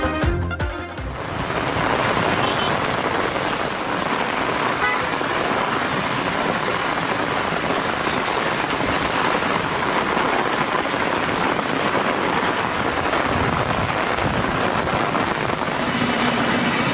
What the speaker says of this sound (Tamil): ஒசூர் மற்றும் அதன் சுற்றுப்புற பகுதிகளில் சுமார் அரை மணி நேரத்திற்கு மேலாக இடி மின்னலுடன் கனமழை பெய்தது